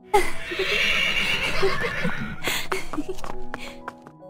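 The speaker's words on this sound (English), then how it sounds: "Annie loved to ride in the fields upon her horse, Falada." A horse whinnies loudly in a long, shrill neigh that wavers and fades, followed by a few sharp knocks and rustles, all close and unaccompanied by talk.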